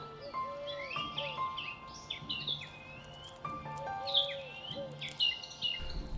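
Starlings call and chirp near a garden bird table, a busy overlapping mix of whistles, clicks and warbling notes at moderate volume with no voices.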